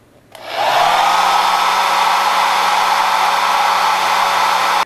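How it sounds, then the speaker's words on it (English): A hair dryer used as a wind source for an apparent wind experiment switches on and blows with a loud, steady whooshing roar that holds constant until the end. "So plug in your hairdryer, and then let's start to blow."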